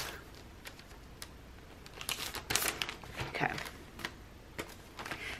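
A Christmas sticker kit is pulled from a plastic bag, with bursts of crisp crinkling and rustling that swell in the middle and trail off into scattered rustles, close up and without speech.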